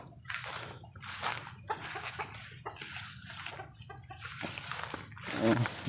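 Chickens cluck in short, repeated bursts over a steady background hum, fairly close and clear.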